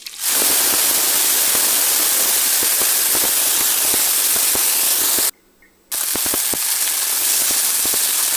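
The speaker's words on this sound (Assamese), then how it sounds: "আনফালে সৰু কেৰাহী এখন পাতি লৈছোঁ, তাতে আকৌ মই তিতা ফুল ভাজিম।" Bitter flowers (tita phool) hit hot oil in a small wok with a loud, close, spraying sizzle that crackles steadily, cuts out for a moment, then resumes.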